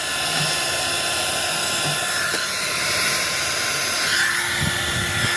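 A heat gun blows with a loud, steady whooshing roar and a high whine onto the headlight lens of a Honda Click motorcycle. The constant close-up hiss fills the whole stretch, with a brief change in tone near the end.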